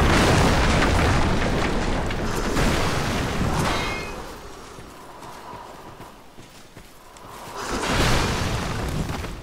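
Explosive barrels blow up in Dark Souls II: Scholar of the First Sin, with a loud, rumbling, broadband blast at the start that fades and then a second heavy boom near the end.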